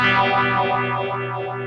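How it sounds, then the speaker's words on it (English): Electric guitar through a Boss eBand JS with overdrive distortion, noise gate, EQ and phaser, one sustained distorted chord ringing out with a slow sweeping swirl as it gradually fades. "You have overdrive distortion, a noise gate. We're using EQ, and we're using a phaser for this tone."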